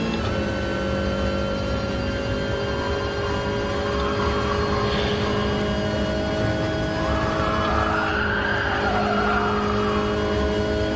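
A Citroen race car in GT Sport during an FIA GTC Manufacturers Series race, its engine droning loud and steady at high revs with a rising tonal whine, plus tire and road noise, no voices.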